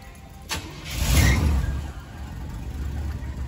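A 1988 Cadillac Fleetwood with 92,000 original miles cranks over: a short starter burst, then the engine catches with a rising roar and settles into a steady idle rumble, close and fairly loud.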